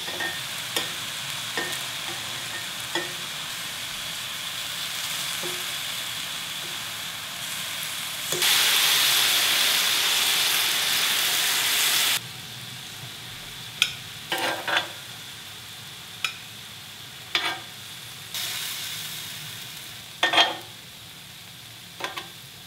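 Cooked radish rice being stirred and turned over in a pot after the heat is switched off, with scraping and soft clatter in bursts, a steady hiss from the hot pot, and several sharp knocks of the spoon against the rim.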